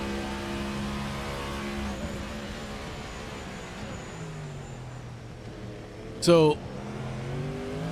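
Race cars lapping the Bahrain circuit during a 2.4-hour race hum through their engines with slowly falling pitch as they pass, and a short sharp burst near the end, all under continuous commentary.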